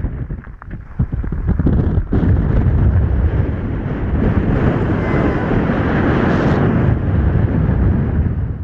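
Strong 40 mph wind buffets the summit at Craters of the Moon, a loud roaring rush that blasts across the microphone after a few choppy gusts, continuing heavy and unbroken.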